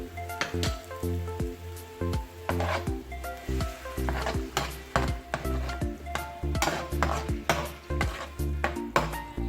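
Cabbage manchurian being stirred and tossed in a pan with sweet chili sauce, a rapid series of scraping, clattering stirs over a soft sizzle, close and steady throughout.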